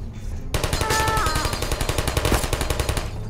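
Turret in the game Portal opening fire: a sudden, loud, rapid stream of evenly spaced automatic gunshots runs for about three seconds.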